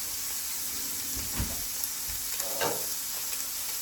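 Butter and oil with ham sizzling in a skillet for an omelet, a steady moderate hiss with a couple of brief bubbling spurts and faint handling noise nearby.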